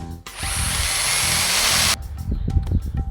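A power drill bores into a wooden file handle with a loud, steady high whine for about two seconds. Clunks and handling knocks follow as it stops.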